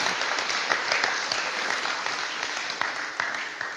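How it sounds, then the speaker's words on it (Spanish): A church congregation claps together in a warm, dense round of applause, steady and fairly close, with a few sharper individual claps standing out as it tapers slightly toward the end. "Ese aplauso déselo al Señor."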